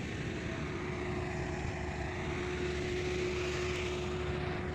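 A DJI Neo drone flies above an airport construction site in Bukidnon, making a continuous, steady whirring buzz with a constant tone. No other sound stands out.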